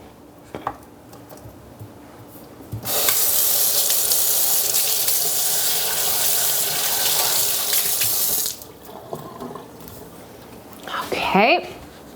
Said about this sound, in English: Give me a second to just wash my hands.